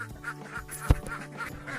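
A flock of laying ducks on a farm gives a short run of overlapping nasal quacks at moderate distance, with a sharp knock or thump partway through and no talking.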